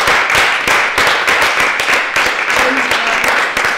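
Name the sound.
audience applause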